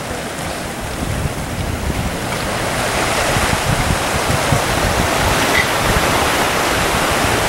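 Sea waves along Malecón Grau, a seafront promenade in Chimbote, Ancash, on a cold morning: a continuous broadband roar of surf with rushing wash and some wind on the microphone, steady and building slightly, with no talk.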